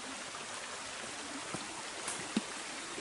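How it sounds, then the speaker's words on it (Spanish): A river of flowing water runs steadily with a broadband rushing wash, even and continuous at a moderate distance, with a couple of faint clicks near the end and no voices. "Que no, hombre, que corre agua."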